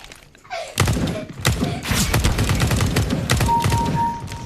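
Rapid bursts of gunfire from Counter-Strike: Global Offensive, loud and close, with thudding volleys of shots repeating over several seconds after a quieter start.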